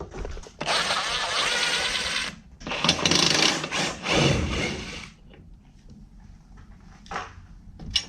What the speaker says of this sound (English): I'll finish taking out this through bolt.